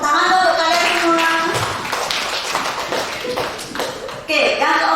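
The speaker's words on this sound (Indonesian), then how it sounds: "Tepuk tangan dong untuk kalian semua" Audience clapping hands at a school teachers' training session, a brief burst of claps mixed with voices before talk resumes.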